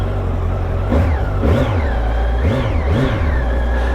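A Yamaha FZ8 800cc inline-four motorcycle engine idles low, then revs sharply in several quick bursts, pitch rising and falling each time, close and loud.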